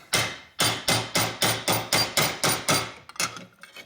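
A ball peen hammer strikes metal on a 1983 Harley-Davidson FXRT shovelhead motorcycle part held in a vise, about ten sharp ringing blows in a steady rhythm, close and loud, ending in a few lighter taps.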